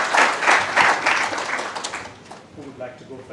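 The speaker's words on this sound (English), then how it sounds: "give them a rousing round of applause and welcome them to this session" Audience applause welcoming panelists at a business session, a dense burst of clapping that swells in waves and then tapers off, with a faint voice coming in near the end.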